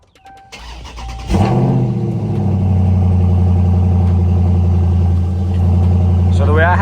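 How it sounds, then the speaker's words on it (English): A widebody Dodge Challenger Scat Pack cold-starts with a brief starter whir, then a sharp flare into a loud, deep, rumbling idle that settles into a steady, throaty drone close by. "let's turn it on. Cold start."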